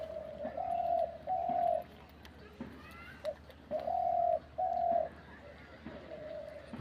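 A pigeon or dove coos in a call a hunter would use, in several sustained, evenly repeated phrases with short gaps between them, close and fairly clear over low background noise.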